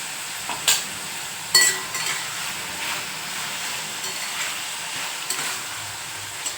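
Green tomatoes fry in a pan as turmeric is stirred in, making a soft steady sizzle with a few scattered spatula scrapes, one sharper knock early on, and no talking.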